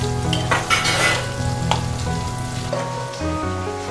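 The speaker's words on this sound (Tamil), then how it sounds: "சின்ன வெங்காயம், இதெல்லாம் நல்லா இந்த நல்லெண்ணெயிலே நல்லா வதங்கட்டும்" Small shallots sauté in sesame oil with a loud, close, continuous sizzle, punctuated by a few clinking stirs of a utensil against the pan.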